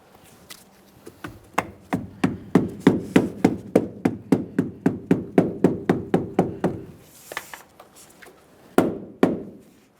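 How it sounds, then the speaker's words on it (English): Rapid series of about two dozen sharp knocks as a door weatherstrip seal is tapped into place on a 1994-2001 Dodge Ram 1500, steady close rhythm, then a pause and a few final taps. "I'm going to tap this down and see if we have a snug fit first."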